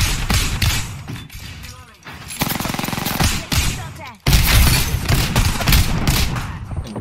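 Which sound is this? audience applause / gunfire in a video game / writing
gunfire in a video game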